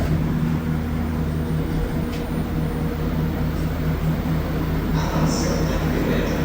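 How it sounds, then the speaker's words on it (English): Massive ventilation fans in Montreal metro tunnels near Côte-Sainte-Catherine station give a steady, droning hum with tonal whine, continuous and moderately loud, with a faint higher hiss joining near the end. "I love those sounds of those massive ventilation fans in the metro tunnels"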